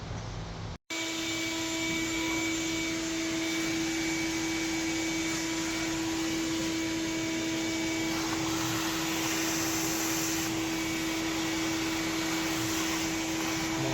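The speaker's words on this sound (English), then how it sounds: "Time to get out of the shop vac." Shop vac roaring loudly and steadily at close range after a brief gap at the start, a continuous airy whine with no talk over it.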